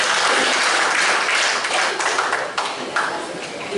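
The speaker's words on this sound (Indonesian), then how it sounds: "Tepuk tangan dulu dong buat Haji Karumullah." Dense, continuous applause from a crowd at a Golkar party office gathering in Jember, loud and sustained with a slight drop near the end, a voice faintly audible beneath the clapping.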